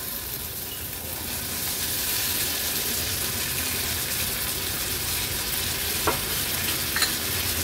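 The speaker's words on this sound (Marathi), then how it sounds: "वाटण पण तेलावर आपल्याला छान असं परतून घ्यायचंय।" Spice paste sautés in hot oil for an Agri Koli style vegetable curry, a steady close sizzle with a couple of faint utensil clicks near the end.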